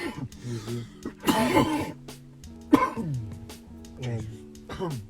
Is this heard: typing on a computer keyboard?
no